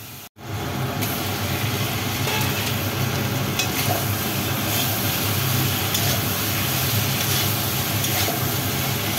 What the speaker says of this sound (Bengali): ভালো করে এগুলিকে নাড়াচাড়া করে কষিয়ে নেব